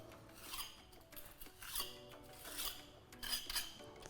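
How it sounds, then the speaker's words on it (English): A steel trowel scrapes mortar residue off brick joints, giving a run of short, close scratchy rasps and metallic scrapes in irregular bursts with no talk. "That's it, scrape off any residue."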